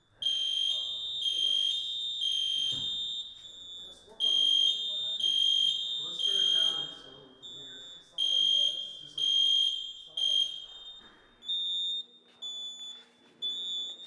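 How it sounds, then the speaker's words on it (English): A smoke detector sounds in a classroom with repeated shrill, high-pitched beeping pulses. People talk quietly underneath it throughout. "Is that the alarm going off still?"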